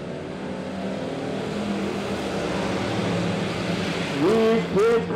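Kidz Cruisers race cars run on a dirt track at Midway Speedway, giving a continuous, fairly loud engine drone from the field that swells near the end as a high revving whine rises and falls.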